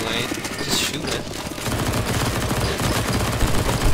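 Rapid gunfire in CS:GO Zombie Escape on the FFXIV Pharos Sirius map as players shoot at a fast boss, dense continuous bursts up close with a voice talking over it.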